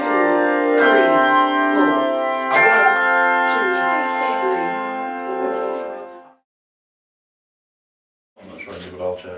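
Handbells ringing during a rehearsal, with several sustained chiming strikes that ring out for a few seconds and then go silent, followed by a short burst of talk.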